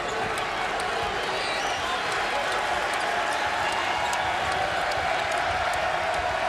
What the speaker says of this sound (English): Crowd back in it.